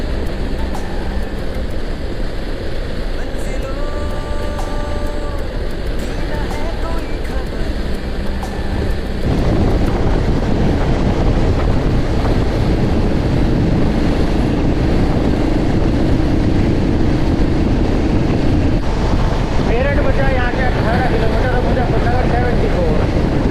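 Wind roars loudly against the rider on a Hero Xpulse motorcycle, heading toward Meerut. The rumbling wash holds steady, then grows fuller and louder about midway as speed picks up.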